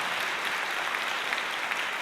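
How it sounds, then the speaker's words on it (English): A school audience claps steadily through a fall concert after the freshman band's performance, a dense, even wash of applause with no voices standing out. "I think they need a round of applause"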